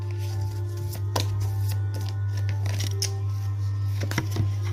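Tarot cards being shuffled for a reading, with several soft papery riffles and slides at close range over a steady low hum, and no talking.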